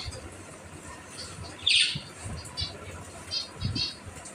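Pet cockatiels eating corn give a brief sharp squawk, then softer chirps and faint pecking, all fairly quiet against low room noise.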